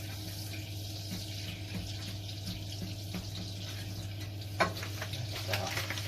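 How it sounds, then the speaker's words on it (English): Butter melting in a pan as the first step of a roux for pasta, giving a steady soft sizzle with a low hum beneath and a single sharper clatter partway through. "So melt down that butter."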